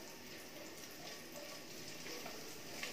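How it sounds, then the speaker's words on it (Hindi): Dry spices, ginger and cashews roast in a pan over low gas heat, giving a soft, steady sizzle with faint stirring scrapes, close and quiet, with no voices. "गैस को लो कर देंगे और ये सब सूखे मसालों को 1 मिनट तक भूनेंगे"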